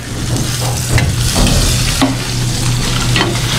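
Whole eggplant sizzles loudly in hot frying oil, steady crackling with occasional stirring scrapes close to the pan, no voices over it.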